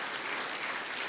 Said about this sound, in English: One more round of applause for Vern Lundquist.